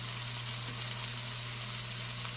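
Steak fries in a hot pan with a continuous, even sizzle and crackling splatter, close and steady throughout, with no voices.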